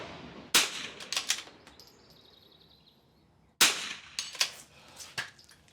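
Two sharp rifle shots at an NRL22 rimfire shooting match course, each followed by fainter metallic rings from steel targets, spaced about three seconds apart outdoors with no talk.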